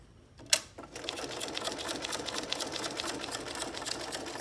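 A sewing machine stitches fabric bat shapes into a garland, starting with a sharp click and then running in a fast, steady, close hum of stitches that continues to the end.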